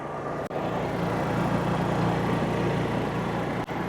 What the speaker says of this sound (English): where I'm standing is maybe 5 or 6 feet from the actual exhaust of the generator